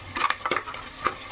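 Ginger garlic paste with coriander leaves frying as the base for a fish gravy, heard as a short burst of stirring scrapes and light sizzling over about a second, close and fairly quiet, with no talking.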